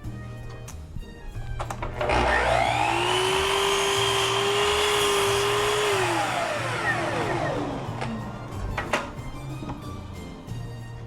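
A miter saw spins up with a rising whine, bites through wood in a loud sustained cut of a few seconds, then spins down as the pitch falls away.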